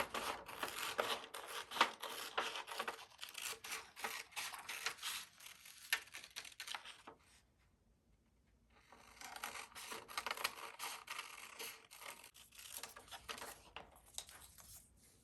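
Scissors cut along a pencil line on paper or canvas for glitter wall art, a close, quiet run of crisp snips and scraping rasps, pausing briefly midway before continuing.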